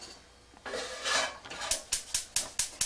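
A skillet with olive oil in the bottom is slid across a stovetop, scraping and rasping against the grate, then knocked down in a run of sharp, evenly spaced metallic clatters close by.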